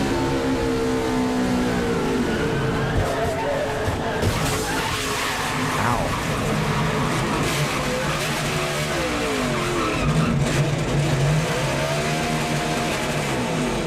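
NASCAR race car at the Auto Club 500, heard onboard: a constant roaring engine with revving swells and squealing, skidding tires amid dense crowd and track noise, with faint radio or crew chatter underneath.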